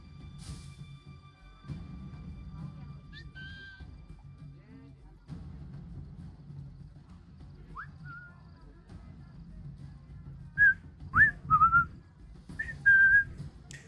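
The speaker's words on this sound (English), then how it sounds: "I wanted to be able to make the whistling noise." Several short whistled notes ring out in Assassin's Creed 3, a few early and a quick cluster near the end, over a quiet low background rumble.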